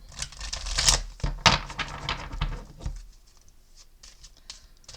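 Soft papery riffling and tapping of cards being shuffled, with brief louder flicks early on, then quieter scattered handling toward the end.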